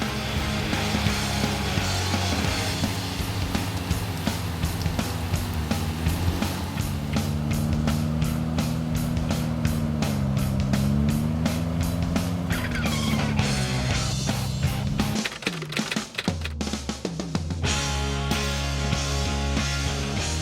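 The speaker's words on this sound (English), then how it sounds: "slowly, oh so slowly, so very slowly, the Suzuki spins its way to the finishing line" A Suzuki 4x4 strains at an off-road club challenge, its engine droning steadily with rising and falling revs as the wheels spin, growing rougher and more uneven near the end.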